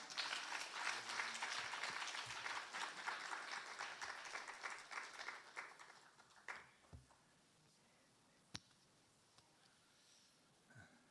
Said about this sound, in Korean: 나올 때 할렐루야로 환영하고 박수하겠습니다.